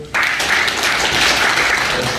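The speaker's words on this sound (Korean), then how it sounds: "박수 한번 주세요." Applause from attendees at a native honeybee breeding class, a sudden loud burst of dense clapping that starts abruptly and holds steady for a couple of seconds.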